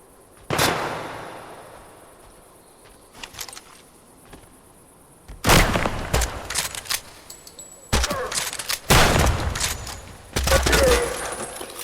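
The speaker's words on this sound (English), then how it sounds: "We just keep shooting." Video game gunfire from the open source armoury in Project Silverfish, loud sharp bursts of rapid shots in separate clusters with quieter gaps between them, and a player talking at times.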